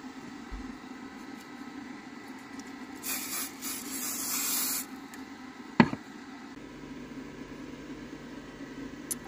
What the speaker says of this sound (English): I'm going to go ahead and put some spray.